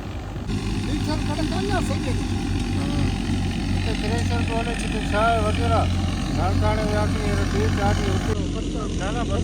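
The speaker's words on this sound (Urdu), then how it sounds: "ایک طرف جو ہے وہ ٹریکٹر تھریشر چل رہا ہے" A tractor-driven wheat thresher runs steadily at a harvest field in Malir, Karachi, a loud continuous droning engine rumble heard under people talking throughout.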